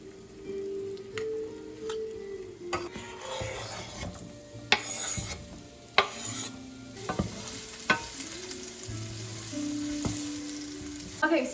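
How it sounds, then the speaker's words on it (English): Half a yellow onion and three garlic cloves fry in a pan while a utensil scrapes and stirs, giving a steady sizzle broken by repeated clacks and knocks against the pan, close up and with no talking. "we're going to be cooking the onions and the garlic for about 5 to 7 minutes"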